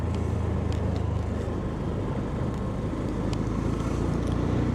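Riding a motorcycle on the road: a continuous, loud engine drone blended with rushing wind noise, unbroken and steady throughout.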